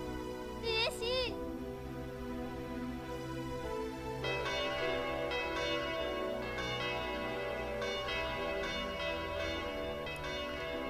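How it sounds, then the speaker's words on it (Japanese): A bell rings in the Japanese dating-sim video game Tokimeki Memorial 2, clear chiming tones over soft background game music, with ringing strikes that sustain and fade. "鳴らないはずの鐘が鳴っている。"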